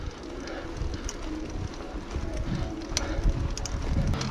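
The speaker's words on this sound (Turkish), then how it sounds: "Mesela güvercin var." Pigeons cooing outdoors in the Avanos area of Cappadocia, Turkey, soft low calls faint under wind noise and rustling, with a few brief sharper sounds.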